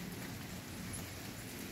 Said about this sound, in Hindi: चलो चलो बारिश हो रही है